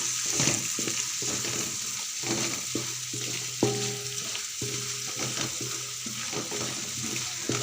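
Prawns frying in a pan: a steady, close hiss of sizzling oil with occasional light stirring taps and an intermittent background hum, no voices.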